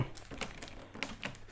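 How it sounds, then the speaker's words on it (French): Packing tape is peeled off a new HP Smart Tank 555 printer during unboxing, giving quiet, close crinkling and ripping bursts in several short irregular pulls. "Je vais enlever les scotch"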